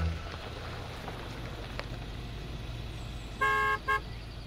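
A car horn sounds in an audio drama at a remote forest research house gate, two short honks near the end, the first longer, over a low idling engine.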